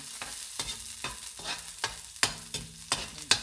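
Garlic frying in a hot pan as it is stirred with a utensil, steady sizzling broken by regular scraping knocks about every third of a second, close and fairly loud, with no voices.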